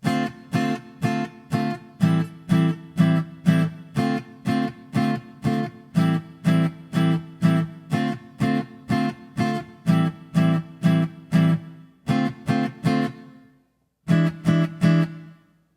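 The pre-chorus of a song is played on a single instrument as clipped, evenly spaced chords, about two per second, running steadily with a brief pause near the end.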